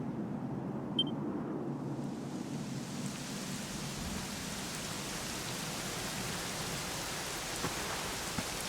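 Steady, soft rainfall in the video game Dragon Quest XI hisses evenly throughout, with a faint distant rumble underneath and no voices.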